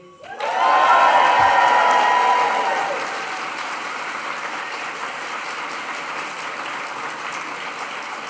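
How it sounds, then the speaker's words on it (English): A graduation crowd for the class of 2025 erupts in loud cheering, whoops and applause, peaking in the first seconds, then settling into steadier clapping. "can all graduates and all guests give a massive cheer and round of applause for the class of 2025"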